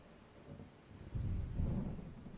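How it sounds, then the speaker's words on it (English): Rain and thunder in the Minecraft video game: a soft rain hiss gives way to two low, swelling rolls of thunder, fairly quiet overall. "It's raining."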